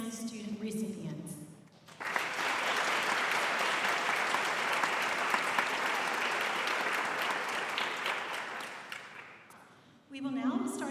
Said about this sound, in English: Please join me for a round of applause to thank all those who make our student scholarships possible